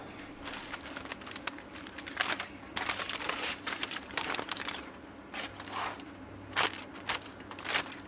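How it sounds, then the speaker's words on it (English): Slow-cooked pork ribs are unwrapped at close range, with foil or paper crinkling and rustling in irregular bursts over about eight seconds and no voices. "it's time for us to unwrap the pork ribs"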